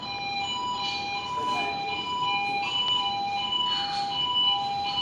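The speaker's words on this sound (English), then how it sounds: "he shuts the door and sounds the alarm" A steady electronic fire alarm tone sounds continuously aboard a ship over a low rumbling background of engines on standby, with faint voices murmuring underneath.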